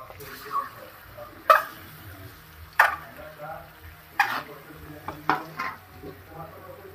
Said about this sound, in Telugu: కొంచెం పసుపు వేసుకొని ఘాట్లు పెట్టుకున్న ఎగ్స్ను దాంట్లో వేసుకొని